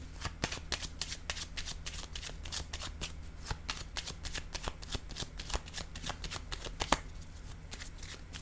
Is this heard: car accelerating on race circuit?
no